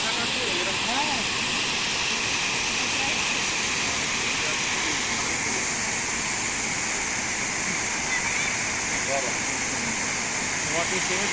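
The Arapongas waterfall in Jacobina, Bahia gives a constant, loud broadband roar of rushing water, with people's voices faintly audible beneath it.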